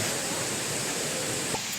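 A river flows steadily past a riverside campsite at Balete Pool in Tanay, Rizal, a continuous broadband rush of water, close and even, with no talking and a brief faint knock near the end.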